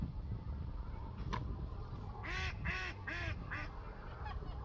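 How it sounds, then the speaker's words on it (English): A duck quacks in a short run of several loud, nasal calls close by, set against steady outdoor background noise at a turkey perch under construction. "And the duck's laughing at me."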